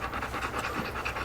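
A Golden Retriever puppy pants rapidly and steadily at close range, a quick, continuous rhythm of breathy huffs with no voices over it.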